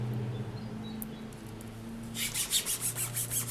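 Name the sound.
burnishing polymer clay sheet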